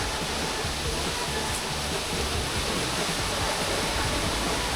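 Waterfall at Tad Fane in southern Laos, a steady dense roar of falling water filling the whole clip, loud and continuous without breaks.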